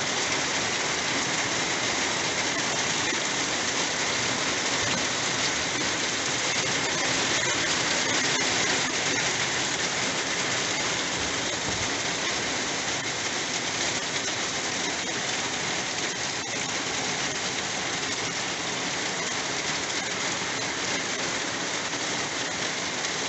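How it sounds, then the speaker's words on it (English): Steady rain pours onto a dry creek bed outdoors, a dense, even hiss of drops that holds at a moderate level for the whole stretch, with no voices. "if this rain keeps up for another 5 minutes or so, you're gonna see a little stream running"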